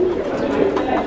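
Pigeons coo in a loft, a brief low throaty warble heard close up over a murmuring background.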